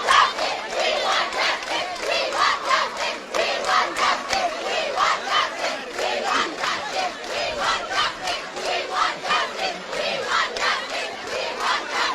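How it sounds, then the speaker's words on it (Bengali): School students protesting in the street, a large crowd chanting slogans in rhythmic, repeated bursts, loud and continuous with a steady call-and-response beat. "তারা নানা ধরনের স্লোগান দিচ্ছেন"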